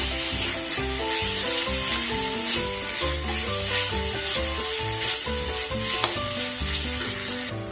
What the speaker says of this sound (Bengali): সবকিছু ভালোভাবে মিশিয়ে নিলাম।